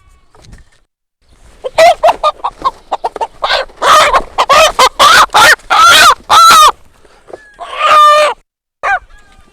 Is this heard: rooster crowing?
yes